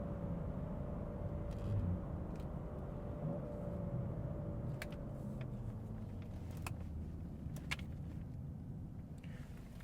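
A 2016 BMW 640 accelerating, its engine a low steady rumble heard from inside the car, fairly faint and even throughout, with a few light clicks and no talking.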